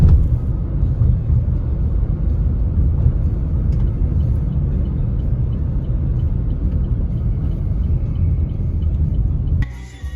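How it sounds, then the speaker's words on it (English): A car carries passengers on an Uber ride along Paseo de Montejo in Mérida, with a steady low engine and road rumble from inside the cabin throughout. "this is the Uber drive down to Plaza Grande on Paseo de Montejo"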